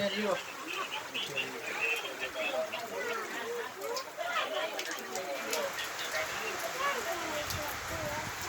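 Steady rain patters throughout, with birds chirping faintly in the background and a continuous wash of noise.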